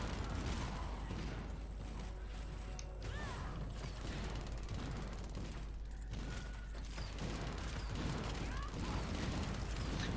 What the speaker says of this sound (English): the turrets are doing such great damage